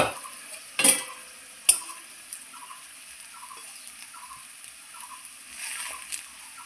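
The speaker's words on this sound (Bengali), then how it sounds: "আমি ঢাকা খুলে দেখে নিচ্ছি আমার আলুটা কতটা সেদ্ধ হয়েছে" A cooking pot lid lifted off boiling potatoes: two sharp metallic clinks close by, then a faint, steady bubbling hiss from the pot.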